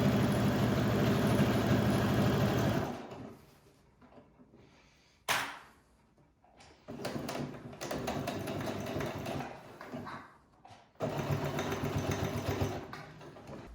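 A sewing machine stitches across the bottom of a fabric bag at a 1 cm seam, running in several loud, steady bursts separated by short pauses and one sharp handling sound.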